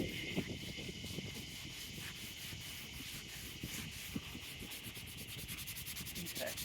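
Close, steady rubbing of 80 grit sandpaper by hand across a plastic headlight lens, a faint continuous scratchy hiss with rhythmic back-and-forth strokes.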